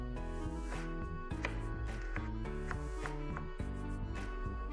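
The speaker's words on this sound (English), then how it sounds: "I'm going to peel the carrot and cut this again into julliennes." A knife cutting a peeled carrot into juliennes on a board, rapid even chopping taps close up, alone without talk.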